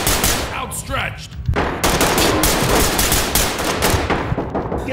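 Heavy gunfire in the tactical shooter Ready Or Not, sustained rapid automatic bursts filling the whole stretch, loud and close, with a brief pause early on and shouted voices mixed underneath.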